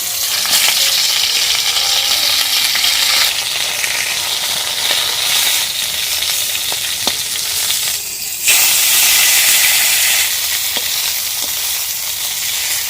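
Sea fish sizzling in hot oil in a village kitchen, a loud, steady frying hiss with crackles and a few sharp pops, continuing unbroken.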